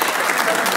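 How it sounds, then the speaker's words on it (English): Brief burst of polite, dense cricket-style clapping from a crowd, steady and even throughout, with no pauses. "That's a cricket clap."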